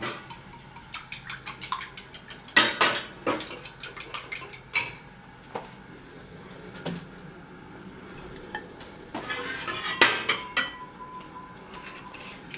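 Metal utensils clatter and scrape against a wok in irregular bursts, close by, with a faint background hiss between strikes.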